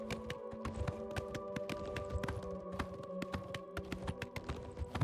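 Galloping hooves of a horse in Oblivion Remastered beat out a quick, even rhythm of crisp clops over a droning musical background, near and steady for the whole stretch.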